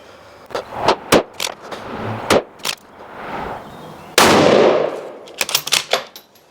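Suppressed rifle shots fired at a range during a suppressor point-of-impact test, several sharp, loud cracks at irregular intervals with one longer, broader blast in the middle.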